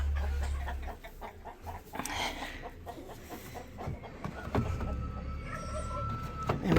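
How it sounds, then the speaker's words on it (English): A broody hen on a spring farm clucks in repeated low, pulsing bursts close by, with other poultry and background farm noise running underneath throughout. "this is the kind of behaviour you see from a Clucky chicken"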